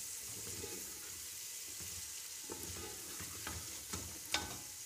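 Potatoes fry in a pan with a soft continuous sizzle, joined by a few stirring scrapes and light clatters toward the end, close up and fairly quiet, with nobody speaking.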